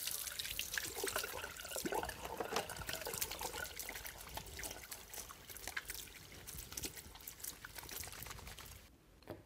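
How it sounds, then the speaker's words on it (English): Hands being washed under a running tap, a steady loud rush and splash of water that continues without a break and fades out at the very end. "wash your hands"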